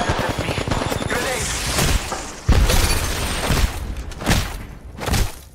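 A grenade blast in the Apex Legends battle royale shooter amid heavy gunfire, with several loud bursts and booming impacts crowding one another across the clip.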